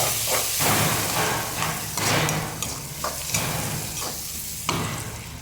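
Onions and bitter gourd frying in an already hot pan, a close steady hiss and sizzle broken by bursts of stirring and scraping that swell and fade every second or so.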